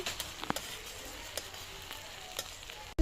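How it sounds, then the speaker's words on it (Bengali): Tomatoes and green chilies with onion stirred in a frying pan, a soft continuous sizzle broken by the scrape and clack of a spatula every so often, fairly quiet and without speech. "এই যে টমেটো আর কাঁচামরিচ নাড়া দিচ্ছি।"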